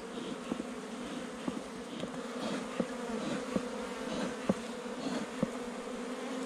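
Many honey bees buzz continuously at close range while swarming around a tree trunk in Paraguay, a dense droning hum with occasional louder passes and faint taps, no voices.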